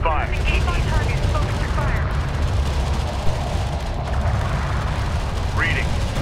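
Enemy railgun fire in the strategy game Homeworld: Deserts of Kharak, heavy mechanical bursts and booms rumbling continuously across a battlefield soundscape, with game unit voice chatter over it.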